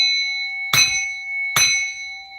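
A hand bell is rung twice in a quiet room, each bright metallic strike ringing out with a long sustained tone that lingers between hits, no speech.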